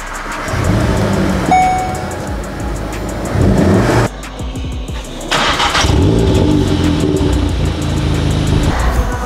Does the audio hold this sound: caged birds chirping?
no